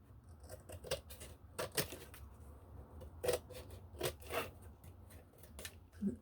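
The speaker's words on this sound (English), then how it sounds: "you can take your scissors and you can clean this up" Scissors snip through paper pages cut from an old book, a string of quick, crisp cuts close by with light paper rustling between them, no talking.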